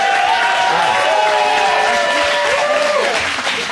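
Loud crowd applause and cheering at a live show taping, continuous dense clapping with a tonal whine running over it and no clear talk.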